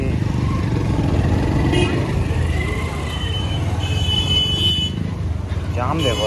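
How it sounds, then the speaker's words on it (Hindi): Congested road traffic with cars and motorcycles fills the scene on a busy Monday, a dense continuous engine rumble with scattered horn toots, heard from a moving motorcycle under a voice. "जाम देखो यार, ट्रैफिक बहुत है आज।"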